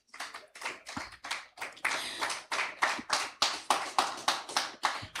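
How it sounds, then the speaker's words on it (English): Applause from a conference audience: dense, steady clapping that continues for several seconds, with no voices over it. "a round of applause for her"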